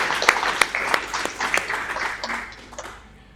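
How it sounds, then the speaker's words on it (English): An audience claps at a Stitchpreneur launch event for job creation and entrepreneurship, a short burst of lively close applause that fades over about three seconds. "Please just clap hands for each and"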